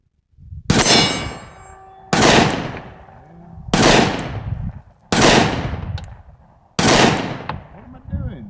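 Five sharp Sig Sauer P365 pistol shots fired from a 12-round magazine at a range, spaced roughly one and a half seconds apart, each loud crack ringing out with a short decaying tail.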